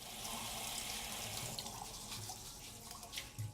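Tap water runs steadily into a kitchen sink for washing spinach, a continuous close splashing rush with no talk.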